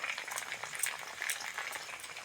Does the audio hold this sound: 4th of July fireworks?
no